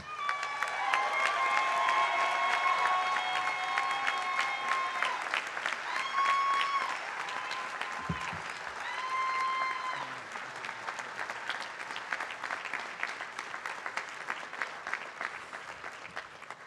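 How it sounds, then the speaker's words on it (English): Sustained audience applause fills a university graduate school convocation hall, dense and steady clapping close by and lasting throughout, with a few faint tonal sounds and murmurs mixed in. "let's give them both another round of applause"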